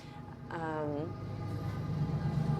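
A train passes in rural Terrace, BC, a rumbling low roar that builds steadily, with a voice speaking briefly over it early on.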